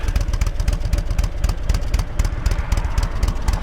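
A Honda VTX1300 motorcycle engine runs close by with a steady, lumpy idle, rapid low pulses and light mechanical clatter over a brief stretch.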